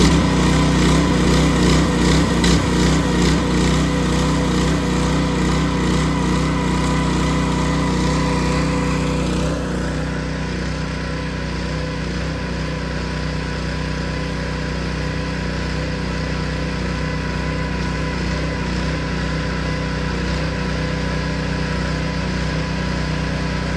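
An engine-driven AR45 pump runs loudly at high speed close by, a buzzing small-engine drone that shifts slightly lower about halfway through, then holds steady.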